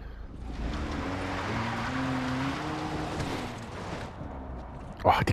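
A car from the game Far Cry 3 ploughs through water with a steady engine drone and broad washing splash that runs continuously, then ends in a brief louder burst of sound at the very end.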